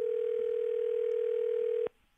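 Steady telephone tone during a radio station call-in, holding unbroken for nearly two seconds before cutting off abruptly into quiet.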